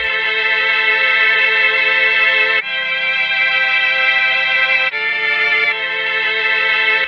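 Sustained, bowed-string-like tones from a Mellotron's violin sound, layered chords held steadily and shifting a few times, with no voices.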